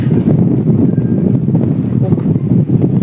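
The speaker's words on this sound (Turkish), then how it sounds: "rüzgar, rüzgar var." Steady, loud low rumble of wind buffeting the microphone, continuous throughout with gusty fluctuations.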